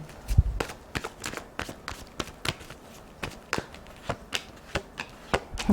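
Quick, sharp riffling and snapping of shuffled playing cards, repeated in irregular bursts, close by in a quiet room.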